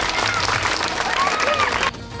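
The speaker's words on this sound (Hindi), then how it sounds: "पई गोटे जोरदार ताली हो जाय" Audience applause at a televised Odia dance show episode, steady dense clapping with a crowd wash filling the clip, cutting off sharply near the end while music-like tones and a voice carry underneath.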